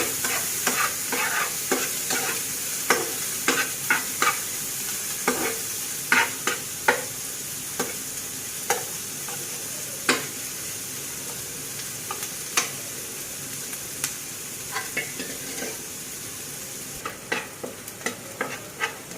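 Onions fry in oil left over from frying rohu fish, browning for a spicy fish bhuna, a steady sizzle broken by repeated sharp scrapes and taps of a spatula stirring the pan, close and clear with no talking.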